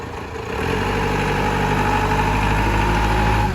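A Toyota 5FD25 2.5-ton diesel forklift engine starts up and settles into a steady, rumbling idle close by, with a low throbbing vibration.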